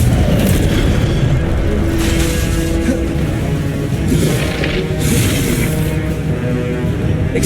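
Incendio fire spell blasts in the video game Hogwarts Legacy, a loud continuous roar of booming, whooshing bursts layered under game effects, dense and close throughout.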